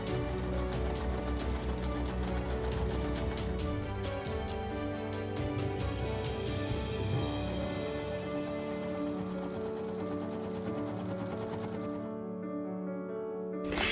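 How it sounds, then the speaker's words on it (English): A sewing machine runs steadily for the whole stretch, stitching up the side seams of a skirt with pockets included, a close, continuous motor whir with fine rapid needle ticking and no talking. "I pretty much sewed up the sides with the pockets"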